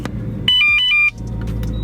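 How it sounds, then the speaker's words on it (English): A BMW E92 M3 with a full tank and an idle problem linked to its fuel breather valve starts up. A series of electronic warning chimes rings out, then a low engine rumble settles into a steady idle nearby. "I'm gonna start the car up real quick, see where it's at."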